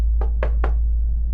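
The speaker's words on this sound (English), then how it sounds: "then knocked again" Three evenly spaced knocks on a house door, close and distinct, set over a low steady hum with no voices.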